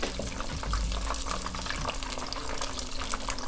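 Fish and chips bubbling in a deep fryer: a continuous dense hiss and crackle of hot oil with a low steady hum beneath it, close and fairly quiet, with no talking.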